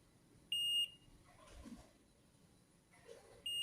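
Two bright steady electronic beeps from a multimeter continuity test while checking the L, R input and ground wiring of a powered subwoofer speaker under repair, each lasting about a third of a second, with faint handling noise between them.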